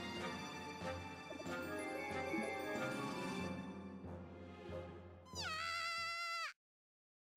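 A small kitten meows repeatedly in Yo-kai Watch Busters 2, clear, close cries over game music, ending with one long, drawn-out meow before a sudden silence.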